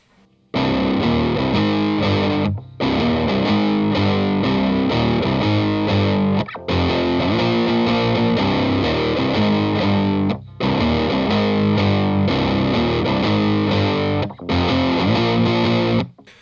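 Distorted electric guitar chugs through a song's chorus in barre chords, loud and close, in four long sustained sections split by brief gaps, with no talking.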